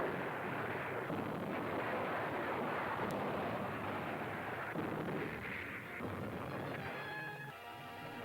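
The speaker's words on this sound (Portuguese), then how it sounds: "A heróica tripulação do Savannah continua a atirar contra a praia" Naval guns of the cruiser USS Savannah firing at the beach during the invasion of Italy, a dense, muffled, continuous roar of heavy booms on a worn, noisy old recording.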